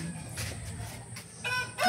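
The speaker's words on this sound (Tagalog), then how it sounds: "Yun yung tandang natin." A rooster clucks in a backyard flock, making a few short, scratchy calls over low background noise, with a louder burst at the end.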